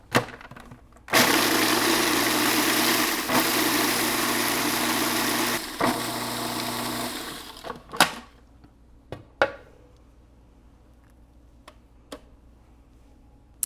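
A food processor whizzing toasted nuts and brown sugar for a cheesecake crust, a loud steady whir in a few bursts with brief pauses, then stopping, followed by scattered taps and clunks.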